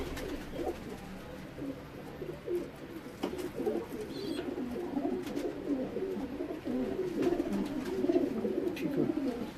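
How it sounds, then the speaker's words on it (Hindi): Pigeons coo softly and repeatedly nearby, low throaty calls overlapping in a steady murmur with faint background noise. "ये जी अली वाले कबूतर है।"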